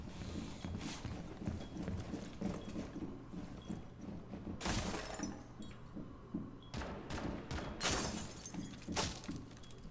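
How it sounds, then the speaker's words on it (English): Glass windows shatter repeatedly in the Rainbow Six Siege video game, with several loud crashing bursts and tinkling debris over a busy backdrop of footsteps and clattering. "Smoke really likes smashing all the windows."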